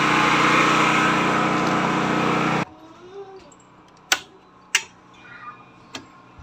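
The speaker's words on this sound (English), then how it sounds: "Run out of petrol for the power generator." Petrol-powered portable generator engine running steadily and loud for a few seconds, then cutting out as it runs dry, leaving a quiet background with a few sharp clicks and knocks.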